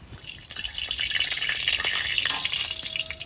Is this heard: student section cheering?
no